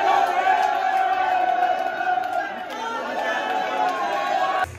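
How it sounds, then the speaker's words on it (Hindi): Dense Holi festival crowd in Vrindavan, a steady loud roar of overlapping chatter, shouts and calls filling the space throughout, many voices near and far blending together. "बहुत ही ज़्यादा भीड़ है यहाँ पर"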